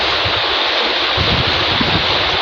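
A river flows with a steady, loud, broadband rush of water, close by and continuous, with no voices over it.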